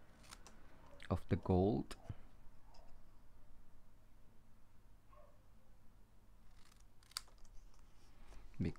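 Scissors snip a few times as a greeting card is fussy cut, close crisp cuts clustered together and then sparse, with a person talking quietly.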